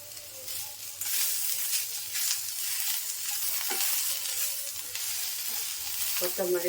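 Radish, garlic and onion fry with curry leaves for a radish chutney. A constant close sizzle hisses throughout, broken by a couple of brief utensil scrapes against the pan.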